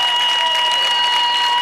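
A stage audience at the Sur Sangram 2 Bhojpuri music show claps to welcome Ravi Kishan, a dense, steady burst of applause heard alone with no talking.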